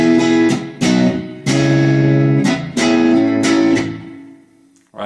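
Guitar chugs through the main riff, thickened by ringing open strings, with strummed chords in repeating bursts that sustain and fade near the end, played alone without talking.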